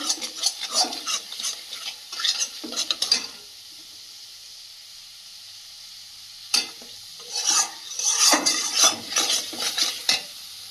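Spice paste scraped and stirred in a hot pan with oil, sizzling in bursts of spoon-on-metal scraping separated by a quiet pause, close and moderately loud.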